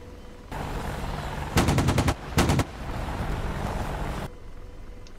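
An AH-64D Apache's cannon fires in the DCS flight simulator: two short bursts of rapid, evenly spaced heavy shots, the first longer, over a steady drone of engine and rotor noise.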